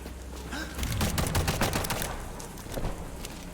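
Rapid bursts of video game gunfire crackle over a low rumbling background, dense volleys in the middle that thin into scattered shots toward the end.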